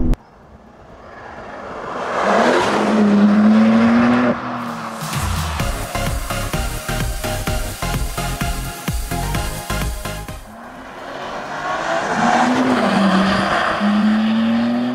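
A 2024 BMW M3 Touring is driven hard along a winding road, its engine roaring loudly through repeated rises and gear changes with short tire squeals, close and continuous for the whole stretch, with no talk.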